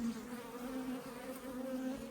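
Honeybees buzz in a steady, dense drone at an open hive in a wintering setup, a continuous close hum with no break across the stretch.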